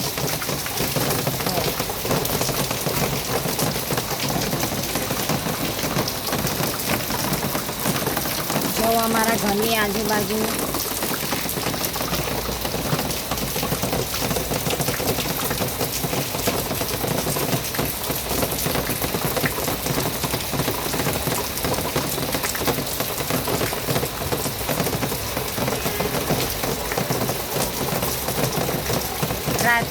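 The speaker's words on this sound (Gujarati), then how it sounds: "વરસાદ રાતનો શરૂ થઈ ગયો છે." Heavy night rain falls around a house in Bharuch as a constant, dense hiss and patter of drops on surfaces, steady for the whole stretch, with someone talking briefly over it.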